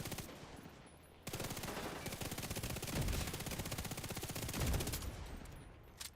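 Rapid automatic gunfire in The Division 2 video game rattles continuously for about five seconds, with heavier blasts mixed in, fairly quiet in the mix.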